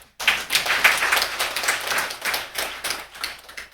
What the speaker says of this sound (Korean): 박수 한번 더 쳐줘